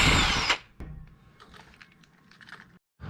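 A power tool spins out a 10mm bolt from a car's fuel injector rail in one short, loud whirring burst, followed by faint clicks and rattles of parts being handled nearby.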